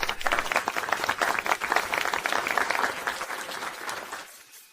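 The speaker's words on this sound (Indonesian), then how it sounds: "Lina, hadirkan tepuk tangan." An audience breaks into dense, even applause to welcome an artist, a close wash of many clapping hands that holds steady and then fades away near the end.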